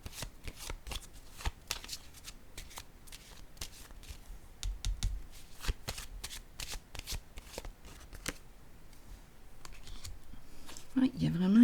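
Playing cards shuffled by hand during a tarot-style card reading, a steady run of quiet riffling clicks and flutters, close and fairly soft, with faint room noise and a low voice near the end.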